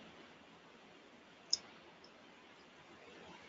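A single sharp computer mouse click stands out once against a quiet, steady background hiss, with a second much fainter tick shortly after.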